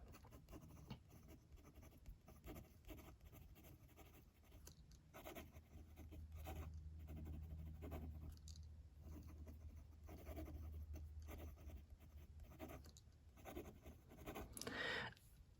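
Platinum Meteor fountain pen with a fine steel nib and Platinum Carbon Black ink scratching across paper, a soft continuous close scratch with faint strokes, no talk.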